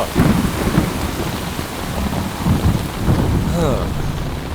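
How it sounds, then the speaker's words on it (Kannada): Steady heavy rain pours down while deep rolls of thunder rumble underneath, loud and close throughout. "ಸಾಕು, ಸ್ವಲ್ಪ ಮಳೆ ನಿಲ್ಲಿಸ್ರೋ"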